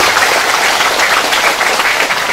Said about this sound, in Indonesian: Tepuk tangan untuk Bapak Kepala Desa.